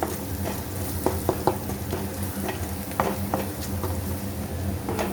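Spices and prawns being stirred in a sizzling frying pan, with steady frying hiss and scattered scraping clicks of the spatula against the pan, no talk.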